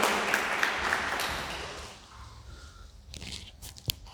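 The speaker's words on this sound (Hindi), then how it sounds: "जोरदार ताली के साथ।" Audience applause at a speech competition at Lake Paradise, Talegaon, Pune, a burst of clapping that fades within about two seconds, followed by a few scattered claps and handling noises.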